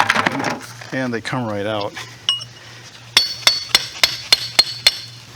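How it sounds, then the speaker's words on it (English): Hammer strikes a chisel to knock stuck mortar chunks out of a catchment, giving about eight sharp metallic clinks in a steady rhythm, close and fairly loud, after a short stretch of speech. "So I'll just whack them with a chisel"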